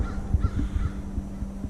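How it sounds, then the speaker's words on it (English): Crows cawing outdoors: a flock gives repeated harsh caws in an uneven, overlapping rhythm, fairly close and clear over a low steady background hum, with no talking. "Listen to all those crows, that's wild."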